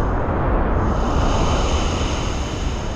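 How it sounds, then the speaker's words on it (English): Powerful waterfall at Molinuco Waterfalls in Ecuador roars as a steady, dense, loud rush of water, constant and close, with no voices. "I don't know if you can tell from the video how strong the waterfall is, but it's pretty powerful"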